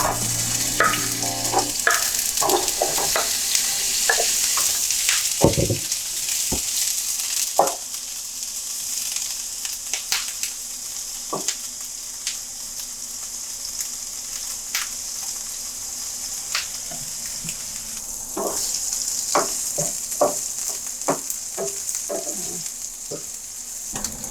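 Paneer cubes sizzle steadily in a hot pan under a constant frying hiss, broken by scattered clinks and scrapes as a utensil stirs them around, close and fairly loud throughout.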